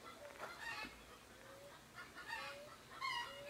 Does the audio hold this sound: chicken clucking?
yes